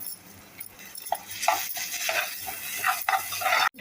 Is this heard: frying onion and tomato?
yes